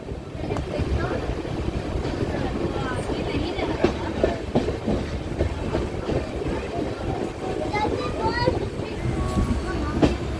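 Passenger train rolling along a curve into Taregra railway station, heard from inside with steady broadband rumble and rail clatter throughout, rhythmic clicks over joints, and people talking over the noise.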